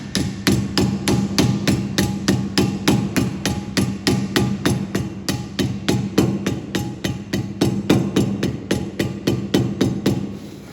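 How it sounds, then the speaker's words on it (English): A hammer strikes the edge of a brake drum again and again during a truck brake job, about three sharp, loud metallic blows per second in a steady rhythm, each ringing briefly, close by and without talk. "when I'm hitting it, I'm only hitting like the edge all the way around"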